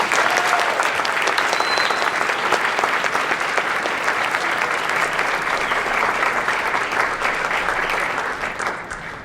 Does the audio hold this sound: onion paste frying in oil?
no